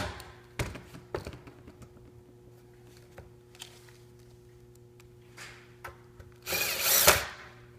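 A power drill drives screws through plywood while a planar monitor frame is mounted, in several short whirring bursts with taps between them and a longer, louder run near the end.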